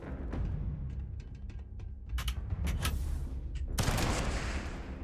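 Shotgun and other gunfire in a Starfield firefight, scattered sharp reports and clicks building to a heavier burst of blasts near the end, with mechanical rattles between shots and no talking.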